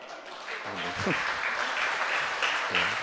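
A church congregation applauds the El Shaddai choir at an anniversary Mass, with a steady patter of clapping that swells slightly, while a few short voices and a faint tone come through.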